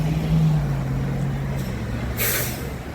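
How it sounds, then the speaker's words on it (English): A New York City bus, the number 12, idles with a low engine drone near Pelham Parkway and Fordham Road in the Bronx, then its air brakes release in one short, sharp hiss late in the moment. "It's New York City bus. It's the 12 bus."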